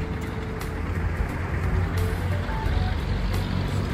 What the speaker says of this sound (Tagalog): sakay nga pala kami ng jeep guys, sa punta ng bahay